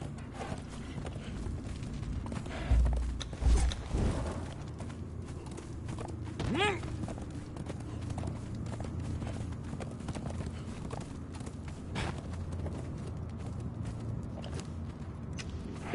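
Horse hooves clip-clop steadily through an outdoor area in Conan Exiles, near war towers, with a brief whinny partway through and a low ambient game drone beneath.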